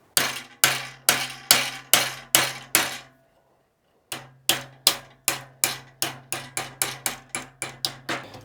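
Metal pieces for a DIY overland radio mount are bent into shape with sharp, ringing metallic blows in a steady rhythm, one run of strikes, a brief pause, then a quicker series.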